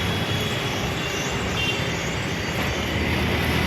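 Steady, loud rumble and hiss of a metro train passing overhead above a Bengaluru shopping street, continuous throughout with no voices.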